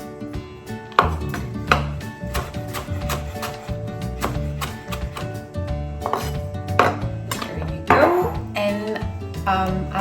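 Handful of cilantro chopped with a knife on a cutting board: a steady run of sharp, close taps spread over ten seconds, with a voice speaking in between.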